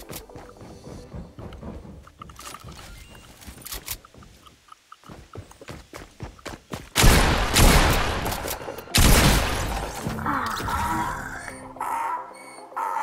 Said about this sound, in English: I'm just gonna destroy this noob with a pistol.